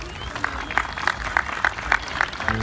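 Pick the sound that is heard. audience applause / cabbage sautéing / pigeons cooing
audience applause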